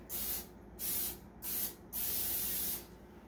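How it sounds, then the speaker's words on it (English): Four short bursts of cooking spray hiss into an 8-by-8 pan in quick succession, close by, the last one held a bit longer. "We're going to spray this with a little cooking spray."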